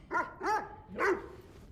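A dog in the video game Firefighting Simulator: Ignite barks three times in quick succession, close and moderately loud, with short yappy tones and no voices over it.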